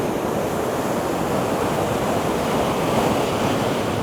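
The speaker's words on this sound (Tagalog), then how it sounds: "Yan, ang lakas ng alon." Strong ocean waves surge and crash at a Sydney beach ocean pool, a loud unbroken roar of surf with gusts of wind buffeting the microphone.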